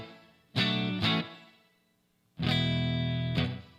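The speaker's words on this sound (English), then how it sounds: "So it's a reverb, right?" A guitar run through a hall reverb effects pedal with the depth knob turned up, playing two sustained chords that ring out and decay in a long, washy tail, with no talking.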